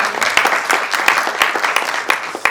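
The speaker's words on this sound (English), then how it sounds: "Can we have a huge round of applause for that?" A brief burst of audience applause at a live conversation event, dense rapid clapping from a nearby crowd with sharp individual claps standing out, steady throughout with no voices.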